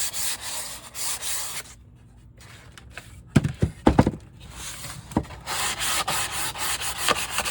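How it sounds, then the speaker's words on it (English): Sandpaper of 320 grit rubs lightly over milk paint on wood in steady, close back-and-forth strokes, broken by a short pause with a few knocks in the middle, and no talking. "I'm just going to lightly sand it to get any clumps of milk paint smoothed"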